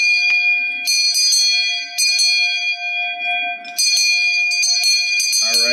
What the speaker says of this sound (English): So let's ring that bell.